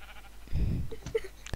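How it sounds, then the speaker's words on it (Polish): Sheep bleating in the Minecraft video game: one loud, close, wavering bleat followed by a few shorter game blips and clicks, with no talk over it. "Owca."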